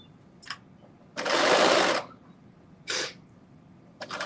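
A sewing machine runs a basting stitch along skirt fabric, heard up close as one sustained whirring run of about a second, bracketed by shorter brief bursts of stitching, with no talking.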